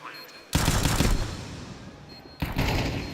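Counter-Strike rifle fire during a jump shot comes in two loud, dense bursts separated by a brief lull, with faint talk in the background.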